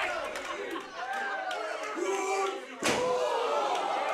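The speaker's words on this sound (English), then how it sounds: "Slams him onto the apron." A wrestler is slammed onto the ring apron during a wrestling match: a sharp, loud impact late on, cutting through a commentator's voice and crowd chatter in the background.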